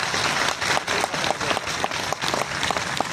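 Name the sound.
audience applause at a poetry gathering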